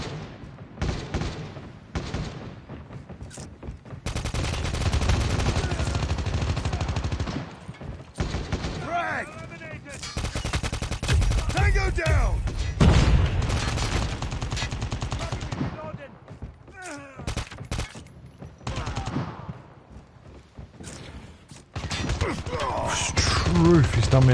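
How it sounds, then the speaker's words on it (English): LMG fire in Call of Duty Mobile rattles in long, loud sustained bursts with brief pauses, mixed with other shooting and a player talking over the action. "That's another LMG, mate."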